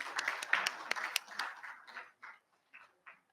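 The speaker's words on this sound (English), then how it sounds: "A round of applause for the winners again." Audience applause for prize winners at the IIMS India conference, a broad burst of clapping that fades over a few seconds into scattered, separate claps.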